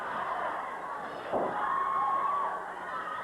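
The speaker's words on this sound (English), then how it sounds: "A building cry of the crowd." A crowd at a 1981 Portland professional wrestling event roars in a steady, distant wash of cheering and shouting, with a brief sharper burst partway through and no commentary over it.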